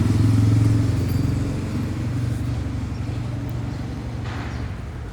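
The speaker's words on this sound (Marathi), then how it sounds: "गाड्यांचा आवाज येतो" A car or motorbike rumbles past close by, loudest at first with a low droning engine tone, then fades into a softer steady roadway hum with faint clatter.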